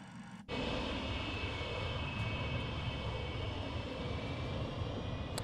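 An MD83 airliner taxis in Microsoft Flight Simulator 2024, its engines holding a steady, even whine and rumble that begins abruptly and carries on without pause.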